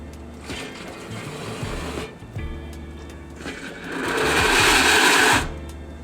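An espresso machine group head runs with detergent water, a close mechanical whir and hiss that swells louder toward the end before cutting off.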